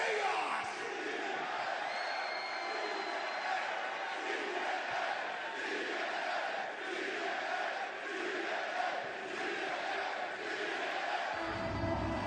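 Wrestling arena crowd at a TNA event roars and cheers steadily and loudly, a dense wash of voices with rising whoops throughout.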